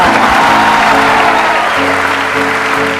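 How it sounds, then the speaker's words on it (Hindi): An audience claps loudly and continuously for the full length, a dense wash of applause with a little crowd murmur and no distinct speech. "बजाओ ताली।"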